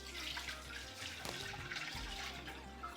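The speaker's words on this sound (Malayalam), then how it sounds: "പാല് കുറച്ച് ഒഴിക്കാം." Milk poured into a cooking pot for payasam makes a continuous liquid splashing and gurgling stream, close and moderately loud, briefly interrupted midway.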